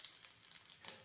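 Radish-stuffed paratha frying in ghee gives a soft, steady sizzle through a short moment, with a slight brighter crackle near the end and no voices.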